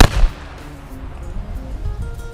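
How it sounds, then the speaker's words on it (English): A single sharp rifle shot of a liquid metal bullet striking a can of starting fluid outdoors, a loud close crack at the start followed by a low rumbling tail that fades over a couple of seconds. "I've got liquid metal bullets in here, so hopefully it'll catch on fire in the air, hit those, they'll explode"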